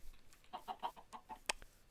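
A chicken in the video game Minecraft clucks in a quick series of soft, short notes, ending in a sharper squawk, quiet and alone.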